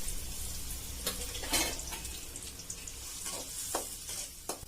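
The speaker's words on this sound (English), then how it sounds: "And I'm going to fry the onions." One and a half large chopped onions fry in a spoonful of cooking oil for mutton liver, giving a steady close sizzle with frequent crackles and a few soft stirring scrapes.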